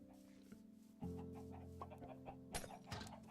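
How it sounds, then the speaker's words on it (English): Chickens cluck in short, clipped bursts in Minecraft Bedrock with the RealismCraft setup, with several quick calls over a faint steady background tone and a louder flurry near the end. "Time to get these chickens out."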